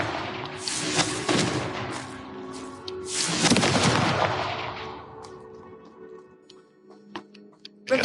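In the video game Hogwarts Legacy, the Confringo fire spell bursts out as a heavy, rumbling blast that swells twice over several seconds, then fades to scattered small ticks and crackles.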